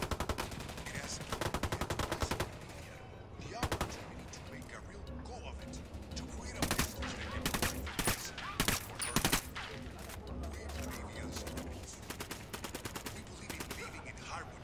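Bursts of squad rifle and machine-gun fire in the tactical shooter game Ghost Recon Wildlands, loud and close, with sharp volleys scattered through the stretch over a steady game-world background.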